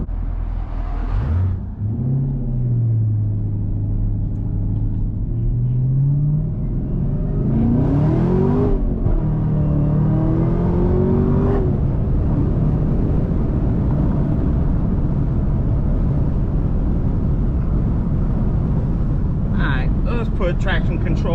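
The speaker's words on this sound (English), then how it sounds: "That time it grabbed, and as you saw, peeled out a little bit a second" A Chevrolet Camaro ZL1 with manual transmission accelerating hard, its engine rising in pitch through a gear and revving loudly up close, with a brief tire chirp as it grabs, while people talk inside the car.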